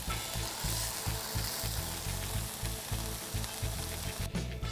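Beef tenderloin searing in a hot pan, a loud steady sizzle and crackle of fat close by, continuous with no talk.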